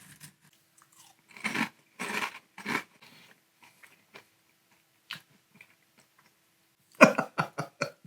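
Strawberry Cinnamon Toast Crunch cereal eaten dry, close and loud: a few separate bursts of crunchy chewing with quiet pauses between, then a fast run of crisp bites near the end.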